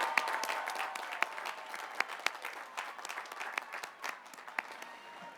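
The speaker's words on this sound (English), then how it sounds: "Let's give all 4 of those finalists a round of applause." Audience applause for the four finalists at a 2019 College of Science commencement ceremony, a steady dense clapping from a large crowd with sharper individual claps standing out, lasting the whole stretch without speech.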